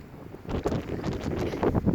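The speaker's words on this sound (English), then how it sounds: "the wind is crazy, so we're not gonna be able to hear any elk" Strong outdoor wind buffets the microphone on an elk hunting trip, a low rumbling roar that swells in after a quieter start and keeps gusting unevenly, with no talk.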